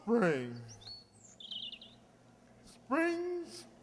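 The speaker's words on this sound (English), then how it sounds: "Bees and birds are on the wing. Listen to the way they sing." Spring birdsong from a radio show sound effect: faint chirps and tweets twitter between two stretches of a voice, in the gap between them.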